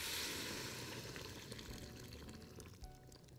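Hot water poured into a pot while making potato soup, a steady close splashing and gurgling pour that runs continuously and eases slightly toward the end, with no talking.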